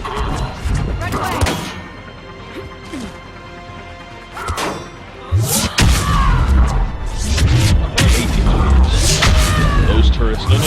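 Turrets firing in Mass Effect 3 on Insanity difficulty in a Cerberus lab give heavy booming blasts and crashing impacts, sparse at first and then dense and loud, with someone talking over the action.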